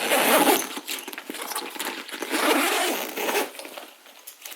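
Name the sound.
clothing zipper being opened and closed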